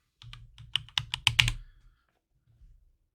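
Typing on a computer keyboard in a server lab class: a quick burst of about a dozen close, crisp key clicks over roughly a second and a half, then a couple of softer taps after a pause.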